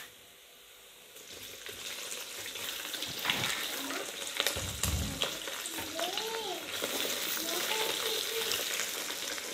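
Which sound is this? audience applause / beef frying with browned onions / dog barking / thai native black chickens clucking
beef frying with browned onions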